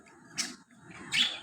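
A young Australian budgerigar chick kept in a cage calls for food with two short, high, raspy chirps, close and fairly faint.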